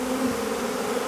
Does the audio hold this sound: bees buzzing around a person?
yes